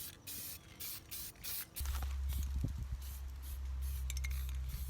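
Short bursts of aerosol spray lay semi-gloss paint onto a Jeep Rubicon axle, hissing in quick pulses and then a longer steady hiss over a low rumble close up, with no talking.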